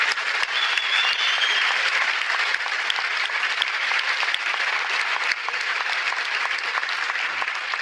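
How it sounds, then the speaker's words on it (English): Sustained applause from an audience at a public discussion with Richard Dawkins and Neil deGrasse Tyson, dense and steady clapping filling the room throughout with no speech over it. "Please, another round of applause for Professor Dawkins and Dr. Tyson."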